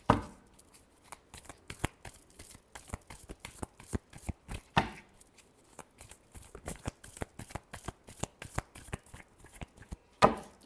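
Tarot cards are shuffled by hand in a quick, steady run of crisp riffling snaps and flicks, close and fairly quiet, with a few louder bursts at the start, middle and end.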